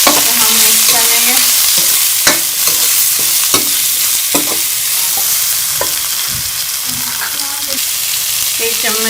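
Chicken Manchurian mixture is stirred in a hot pan, a loud steady frying hiss overlaid with repeated spatula scrapes and knocks at an uneven pace, close up with no talk.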